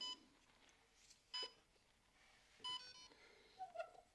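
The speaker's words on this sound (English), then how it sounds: "You may hear a couple little beeps and the gimbal is in the off position" Two short electronic beeps from a smartphone gimbal powering off, each with a bright tone, spaced about a second apart, over faint handling noise and a soft blip near the end.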